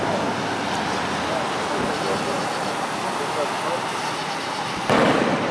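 Fourth of July fireworks heard outdoors as a continuous crackling roar with a few sharper pops, one louder burst near the end, and faint road traffic in the background.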